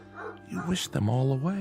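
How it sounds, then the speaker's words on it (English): A collie barks and whimpers in a radio drama, a couple of short yips rising into a drawn-out whining bark, with someone speaking over the start. "That's Bill Soames's collie."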